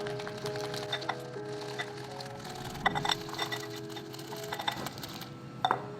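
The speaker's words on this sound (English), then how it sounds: "Just keep whisking until they're soft peaks." A hand whisk beats rapidly in a bowl toward soft peaks, giving a quick rhythmic ticking and clinking against the sides, close and moderately quiet, with no speech.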